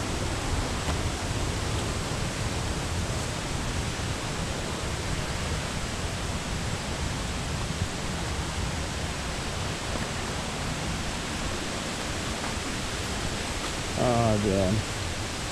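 A muddy waterfall at Mt. Wynne, St. Vincent, swollen after days of heavy rain, roars as a steady broadband rush; someone speaks briefly near the end.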